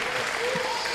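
Applause from a professional wrestling match, heard as a steady, moderate patter of clapping for about a second with faint crowd noise behind it.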